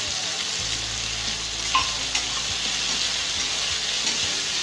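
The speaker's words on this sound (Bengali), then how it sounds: "এবার আরো 1 মিনিট আমি এটা কষিয়ে নেব।" Tomato and green chili paste sautéing in a pan for a fish curry, with a steady broad sizzle throughout and a few soft stirring scrapes, close and fairly loud, no talking.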